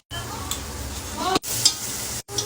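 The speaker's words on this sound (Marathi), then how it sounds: "आता इथं अद्रक लसणाचं पेस्ट टाकत आहे आम्ही" Ginger garlic paste hitting hot oil with golden-brown onions for paneer biryani, giving a close sizzle with stirring scrapes, briefly cut by two short silent gaps.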